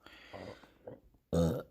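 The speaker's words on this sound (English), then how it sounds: "I don't know why I keep burping in these fucking podcasts" A loud, close burp erupts from a man recording a podcast, one sustained belch standing out sharply after quieter stretches of low, muffled mouth and breathing noises.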